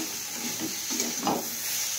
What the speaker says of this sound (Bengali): এখানে হচ্ছে সব সবজি ভাজা হচ্ছে